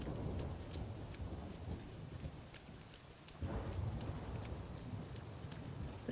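Steady rain pours in the video game Garden Witch Life, a dense, even hiss with scattered sharp droplet ticks and low rumbling underneath, continuous throughout at moderate loudness, with no talking over it.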